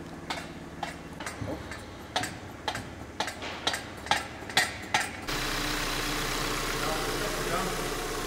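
A Volkswagen Golf 7 GTI engine idles steadily at close range after a run of sharp ticking clicks, with people talking nearby.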